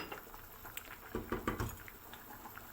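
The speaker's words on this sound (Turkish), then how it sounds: "Çorbamız gördüğünüz gibi kaynadı." Lentil soup bubbling at a low boil, with soft irregular pops and blips over a quiet hiss.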